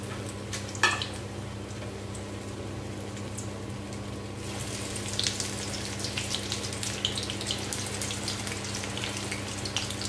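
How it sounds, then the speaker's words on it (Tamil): Potato snacks deep frying in hot oil over a low flame, giving a steady soft bubbling sizzle that runs alone for the whole stretch and grows a little brighter partway through. "நல்லா சிம்ல வச்சு பொரிச்சு எடுத்துக்கோங்க."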